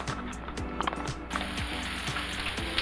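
Frozen, still-wet broccoli and cauliflower frying in a pan, giving a steady hissing sizzle with scattered crackles and pops and some light rhythmic clatter.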